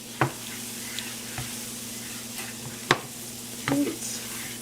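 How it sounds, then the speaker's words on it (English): Butter and flour stirred together in a pan over medium-high heat give a faint steady sizzle, broken by a few sharp scrapes and clicks of the utensil against the pan. "You want to mix up the butter and the flour."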